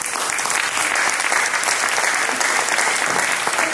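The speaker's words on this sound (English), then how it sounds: "may I request a big applause for our Sir Joseph De Leon" Loud, dense applause from an awards gala audience honoring Sir Joseph De Leon, a continuous wash of many hands clapping at a constant level.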